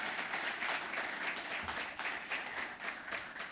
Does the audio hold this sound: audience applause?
yes